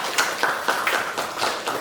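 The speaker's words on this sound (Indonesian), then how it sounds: "Bagus, tepuk tangan buat Aurel." Schoolchildren in an Indonesian classroom clap for a classmate, a short run of brisk, uneven handclaps, close and fairly loud, with no talking.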